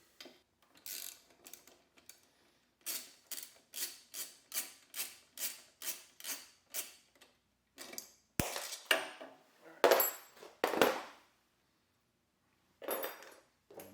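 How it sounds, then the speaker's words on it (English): Ratchet wrench loosening 10mm and T30 fog light bolts on a BMW R1200 GS Adventure motorcycle, a fast, evenly spaced run of metallic clicks, close up, then a few louder clanks and scrapes of tools. "So first, unscrew 10mm and a T30."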